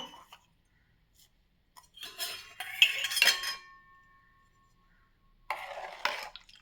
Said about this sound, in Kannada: ಇದಕ್ಕೆ ಈಗ ಕಡೆದ ಮಜ್ಜಿಗೆಯನ್ನು ಮಿಶ್ರಣ ಮಾಡಿ ಇದಕ್ಕೆ ಉಪ್ಪನ್ನು ಬೆರೆಸಿ